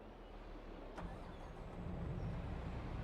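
The engine of a CASE 1455 combine harvester in Farming Simulator 22 rumbles steadily as a low, broad drone with a brief click near the start, fairly loud and with no talk over it.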